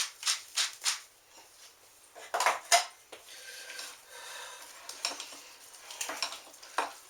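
Golden potatoes with butter being mixed in a pot by hand, without a masher, into creamy mash: irregular soft scraping and stirring strokes, some louder bursts, close up with no talking.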